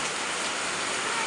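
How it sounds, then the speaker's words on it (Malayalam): Heavy rain pouring in the Kallarkutty high range near the dam at night, a dense, even roar of water close by with no voices. "ഞങ്ങളുടെ കല്ലാറൂട്ടി ഹൈ റേഞ്ച് മേഖലയിലേക്കുള്ള മഴയാണ് ഇത്, ഡാമിൻ്റെ അടുത്തുള്ള."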